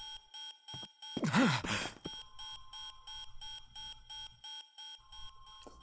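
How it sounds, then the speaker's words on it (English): An alarm beeps on a ship in the Tales of Arise video game, a repeating electronic tone pulsing in an even rhythm, briefly interrupted by a voiced groan or sigh. "That beeping noise is very irritating."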